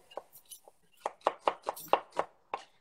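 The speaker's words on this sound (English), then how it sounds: "let's start chopping onions fast" A knife chops onions for a cod fish recipe, about a dozen quick, crisp strikes on a board in an uneven but brisk rhythm, close and clear with no talking.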